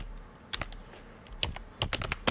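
Someone types on a computer keyboard to chat in a game, producing short bursts of close, crisp key clicks separated by brief pauses, quiet and without speech.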